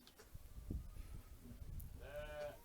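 Marigold, a ewe on Fair Isle, calls for her lambs with a wavering bleat near the end, heard at moderate distance over low wind rumble and a few soft thumps.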